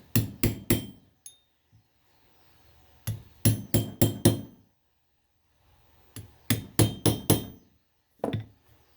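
Hammer tapping a hub seal into place on an LS MT125 motorcycle, sharp metallic taps in quick bursts of three to five with short pauses between, close and crisp, no talking.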